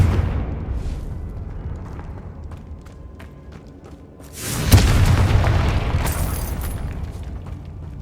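A Confringo fire spell detonating in Hogwarts Legacy, a deep booming blast that swells out of steady rumbling game ambience and rolls on with a sustained roar and crackle, loud and close.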